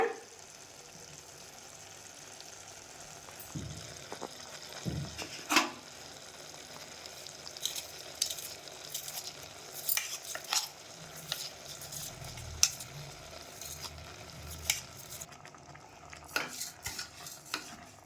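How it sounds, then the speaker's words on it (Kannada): Raw rice stirred and fried in oil in a pan for vegetable pulao, with steady soft crackling and repeated scraping and clinking of a spoon against the pot, close up and without talk. "ಎಣ್ಣೆಯಲ್ಲಿ ಒಂದು 2 ನಿಮಿಷ ಅಕ್ಕಿಯನ್ನು ಬೇಯಿಸ್ಕೊಳ್ಳಿ"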